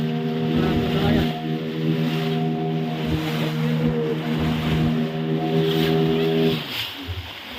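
Fishing boats out at sea during a sea-offering ceremony off Pangandaran beach, their engines giving a steady, loud droning hum over wind and water until it drops away near the end.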